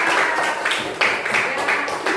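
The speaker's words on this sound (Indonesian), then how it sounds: "Tepuk tangan dulu buat kalian" A classroom of students clapping together in a steady, dense round of applause, close and fairly loud throughout.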